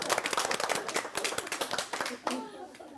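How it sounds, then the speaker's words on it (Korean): Congregation giving a standing ovation during a church devotional workshop seminar, a dense patter of many hands clapping nearby, fairly loud and steady, with a voice speaking over it. "여러분 기립박수"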